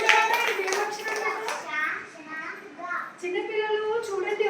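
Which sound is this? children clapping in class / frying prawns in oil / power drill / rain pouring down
children clapping in class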